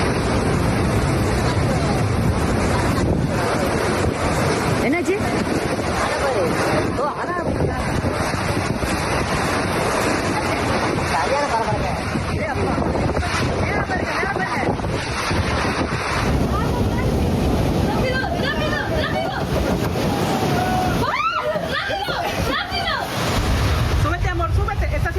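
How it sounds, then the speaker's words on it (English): A powerful whirlwind near Thoothukudi Airport, India, roars as loud, constant wind buffeting the microphone for the whole stretch. Voices can be heard beneath the rushing gusts. "A powerful whirlwind suddenly formed near Thoothukudi Airport in India"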